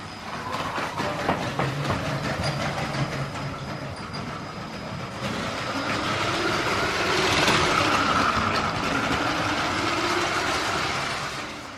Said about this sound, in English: Here the blue-green train has slowed down for the turn, and as soon as it steps over the transponder, it accelerates for the straight line.